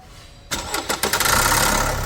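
An Opel Astra K turbo car engine being started: a quiet lead-in, then the starter cranks in a few quick bursts before the engine catches and settles into a loud, steady idle, close by with no talk.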